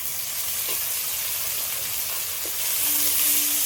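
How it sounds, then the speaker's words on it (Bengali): Ground spice paste with salt and turmeric frying in a pan for a fish curry, a gentle continuous hiss and sizzle with faint stirring knocks, rising slightly toward the end. "সবগুলো একসাথে ভালো করে একটু কষিয়ে নিই মশলাটা"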